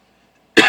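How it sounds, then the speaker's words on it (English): A single short cough bursts out close and loud after a near-silent stretch, a brief throat-clearing sound from a man pausing mid-sermon. "I don't know why I got this little cough all of a sudden."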